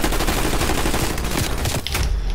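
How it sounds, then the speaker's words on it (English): Rapid, dense gunfire in Call of Duty: Black Ops Cold War, continuous volleys of close, loud shots filling the whole stretch with a heavy low rumble. "Who the hell's shooting you, bro?"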